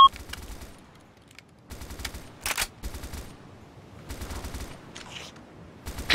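Gunfire in the military shooter ARMA 2 crackles in several rapid automatic bursts, each a tight cluster of sharp shots separated by short pauses, fairly distant and dry, with no voices.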